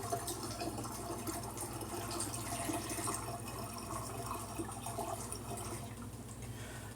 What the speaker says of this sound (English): Going to add some more water.